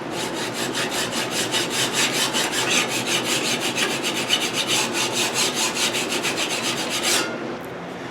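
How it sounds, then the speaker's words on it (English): A hand file rasps steadily across the edge of a steel cabinet scraper to square it, with rapid regular strokes that stay loud and close until they stop abruptly near the end. "Hold the file square."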